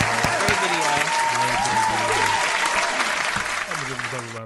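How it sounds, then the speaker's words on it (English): Dense, steady applause from an audience during a live show fills the whole stretch, loud and close, with voices talking over the clapping. "Round of applause."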